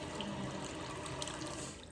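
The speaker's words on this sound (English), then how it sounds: "I'm gonna do 4 1/2 cups of water." In a suburban home kitchen, tap water runs into a pot for cooking rice as a steady, quiet stream. The gentle hiss holds evenly and tapers off slightly at the end.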